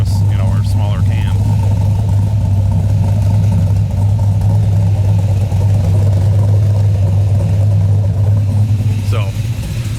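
An LS3 Camaro V8 fitted with a Nickey stage 1 cam idles close by with a loud, steady low rumble and a slightly lumpy, uneven pulse, continuing throughout.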